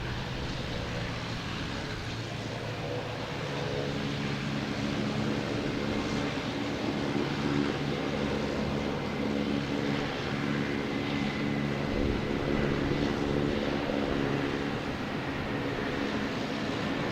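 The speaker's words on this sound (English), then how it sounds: "Now we got JetBlue taking off at A320 heading to Raleigh-Durham." A JetBlue Airbus A320 taking off from Boston Logan gives a distant, steady engine roar with layered droning tones that swell slightly midway.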